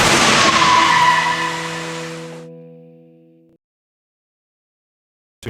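A car is launched down a crash test hall as a test run starts, giving a loud rushing, skidding roar that fades out over a few seconds and leaves a steady tonal hum before silence.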